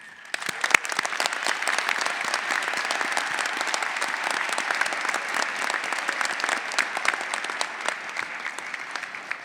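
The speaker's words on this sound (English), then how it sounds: "Let us take a moment to recognize them with a heartfelt round of applause for their remarkable achievements" A large convocation crowd gives a heartfelt round of applause, dense steady clapping that fills the hall for about nine seconds without a break.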